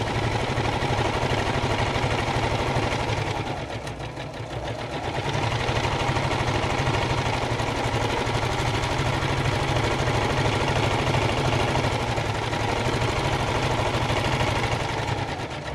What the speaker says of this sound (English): I have to pull the sewing machine up for a minute and do some sewing.